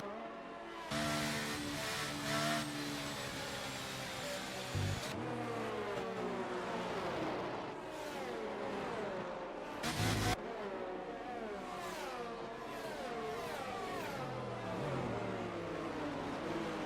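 Race cars circling Spa behind the safety car in the F1 23 video game, engines droning steadily with rising and falling pitch sweeps under continuous background sound, with brief loud bursts near the five- and ten-second marks.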